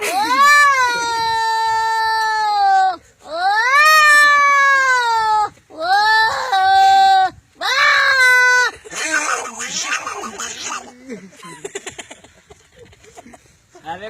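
A voice imitates two cats fighting over milk on a rooftop ledge, with long rising and falling yowls in four bursts, then harsher screeching snarls that fade toward the end.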